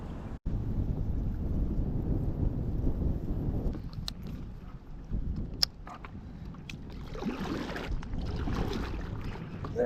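Strong wind buffeting the microphone on a paddleboard during a bass fishing trip, a steady low rumble with faint water sloshing and a few small knocks, no talking.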